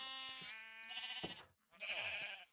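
Minecraft sheep bleat twice in quick succession, wavering nasal cries heard close and clear with a short pause between them.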